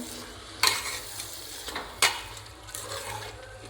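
Rice being stirred and sautéed in a pan for homemade veg pulao: a few sharp scraping stirs stand out over a steady low sizzle and hum, close and fairly quiet.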